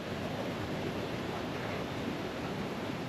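A waterfall in Shizuoka, Japan, rushes as a steady, dense roar of water that runs without a break and stays fairly soft and even throughout.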